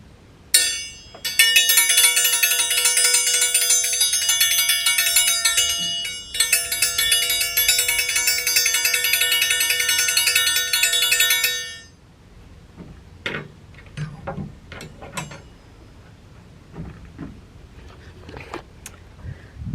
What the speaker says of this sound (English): Let me get the bell so y'all can see.